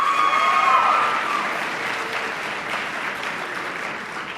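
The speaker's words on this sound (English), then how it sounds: "We're going to give huge rounds of applause to 6, 5, and 4" Sustained audience applause fills a hall at a high school speech individual events state finals awards ceremony, steady and dense for several seconds, easing slightly toward the end, with no talk over it.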